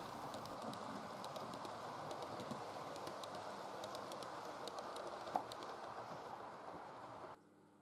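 A long-distance train with a full kitchen car, hauled by locomotive 60063 Isinglass on the East Coast Main Line at Little Bytham, passes as a faint, steady rumble with light rhythmic clicks before cutting off abruptly.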